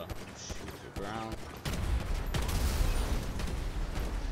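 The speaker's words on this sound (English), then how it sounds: "Exploding ammo, so if I shoot anything, it will explode." Rapid gunfire with explosive bursts in GTA 5, using exploding ammo: a few quick mechanical clicks, then a sustained loud rattling fusillade with booming impacts that fills the rest of the clip.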